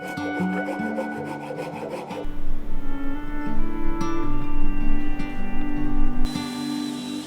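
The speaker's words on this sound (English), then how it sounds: "which was mostly sanding. Lots and lots of sanding." Wood for a DIY charging stand being sanded by hand, rhythmic rasping strokes close up over a steady hum that cuts in and out, moderately loud and continuous for several seconds.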